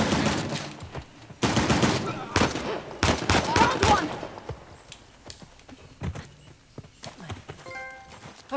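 Gunfire during an ambush in the video game Uncharted: The Lost Legacy, with several sharp, fairly loud bursts of shots in the first four seconds, then sparser, fainter pops and clicks.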